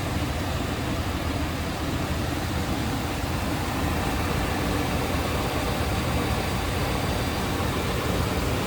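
A 1989 Chevrolet C1500 Silverado truck engine idles in a steady, low rumble at moderate volume, with a smooth, even hum and no other sounds.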